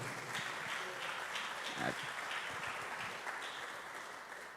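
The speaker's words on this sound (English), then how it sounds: "Y'all clap it up one more time for it." Audience clapping at a talk on finding purpose through pain, a moderate even patter of applause that runs throughout, with a brief voice or tone near the middle and a slight fade at the end.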